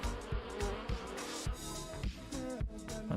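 Buzz sound effects from a game under development play as a dense, rough, insect-like drone broken by rapid rhythmic pulses, loud and without speech.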